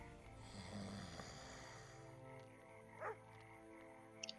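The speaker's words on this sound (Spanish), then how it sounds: "Estaba roncando." Snoring from a sleeping character in The Witcher 2 video game, a faint, drawn-out rasping breath that sits low in the background, with a couple of small sharp sounds near the end.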